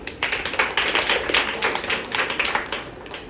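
An audience at a Good Friday night prayer quiz gathering claps steadily for several seconds, a dense patter of many hands filling the room without talk.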